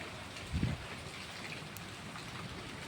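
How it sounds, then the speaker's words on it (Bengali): Steady rain falls on an empty street, a soft continuous patter with one brief low rumble near the start; no voices. "দেখো বৃষ্টি পড়ছে।"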